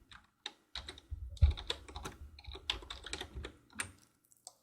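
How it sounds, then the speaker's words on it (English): Keys clatter on a computer keyboard in quick irregular bursts of close, crisp clicks, with short gaps between runs of typing. "I just typed."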